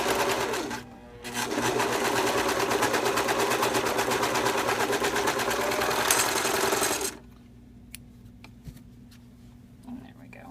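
A sewing machine runs in one long continuous burst stitching a V-neck tee shirt seam, its rapid needle chatter loud and close, then stops, leaving quiet room tone with a few small clicks and soft speech.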